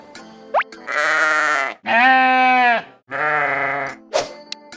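A sheep bleats three times in long, wavering, nasal calls separated by short pauses, close and loud, with no other sounds around.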